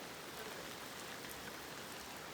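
Monsoon rain falling steadily outdoors on a trek, a dense, even hiss of drops with no pauses, fairly faint and uninterrupted.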